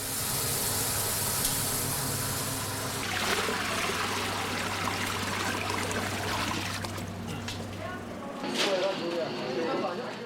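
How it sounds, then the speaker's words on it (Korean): Glutinous rice being washed and set to soak in water for rice cakes at a rice cake shop, steady running and pouring water with trickling splashes, a brief louder gush near the end. "내일의 떡을 만들기 위한 쌀 씻어 불리기."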